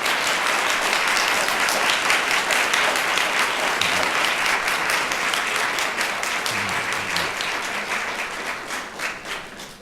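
Loud, continuous audience applause at a public meeting fills nearly ten seconds, a steady dense patter of many hands that thins slightly toward the end.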